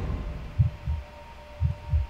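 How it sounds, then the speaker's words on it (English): A video game heartbeat effect thumps low and muffled in two pairs of beats over a steady hum, close and alone with no voices. "I had a heartbeat."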